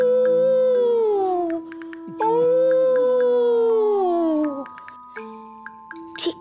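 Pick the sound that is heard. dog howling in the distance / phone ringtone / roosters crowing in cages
dog howling in the distance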